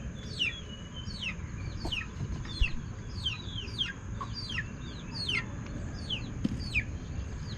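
Several chickens cluck and chirp repeatedly in a lively, overlapping chorus against a steady background hum.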